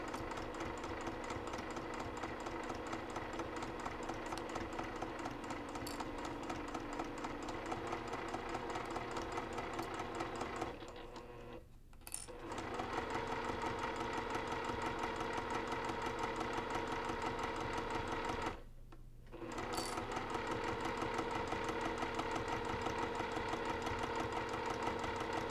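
Sewing machine stitching pillow fabric slowly with a short stitch length, a steady close mechanical whir that runs continuously and stops briefly twice before resuming.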